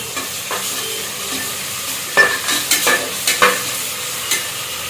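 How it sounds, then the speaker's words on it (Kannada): Crushed ginger being stirred into green chilli chicken in a pan, giving a steady sizzle under a run of scraping stir strokes that come in close, loud bursts toward the end. "ಇದು ಇವಾಗ ಚೆನ್ನಾಗಿ ಮಿಕ್ಸ್ ಮಾಡ್ಕೊಳ್ಳೋಣ"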